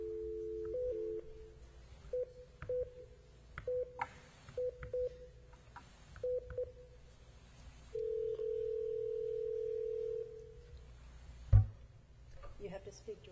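Telephone line while a call is placed during a school governing board meeting: touch-tone dialing beeps in short bursts, then a steady dial tone of a couple of seconds, ending with a brief thump, all fairly faint in a quiet room.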